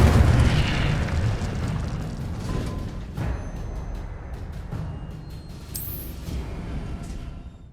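The Incendio fire spell from the Hogwarts Legacy video game is cast with a loud, booming burst of flame at the start, followed by a rumbling, crackling fiery decay and a few smaller bursts.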